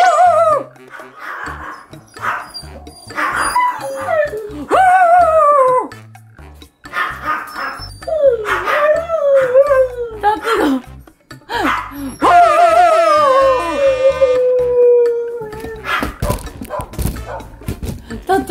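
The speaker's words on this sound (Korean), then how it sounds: "거실에 있는 우리 집 발티즈들이 짖잖아." Several Maltese dogs bark and whimper in a home living room, loud and close, with yips and whines coming in repeated bursts and overlapping calls throughout.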